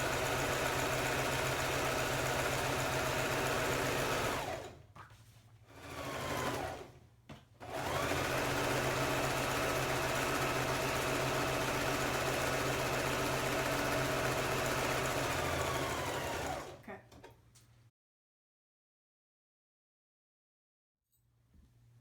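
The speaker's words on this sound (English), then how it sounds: "We sewed that string, zigzagged it down" A sewing machine zigzag stitches over a gathering string, running in fast steady bursts with two brief pauses, then stopping into silence near the end.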